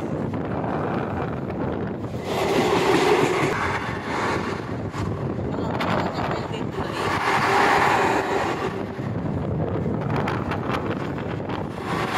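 Passenger train on the Makthal to Raichur line rolling along the rails, a steady rumbling roar heard from inside a carriage with swelling gusts of wind buffeting the microphone.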